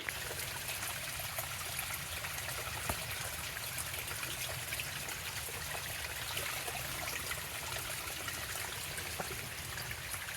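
Shallow water trickles steadily near a mine on Trimont Ridge, a soft continuous babble with faint hiss, running alone without voices for the whole stretch.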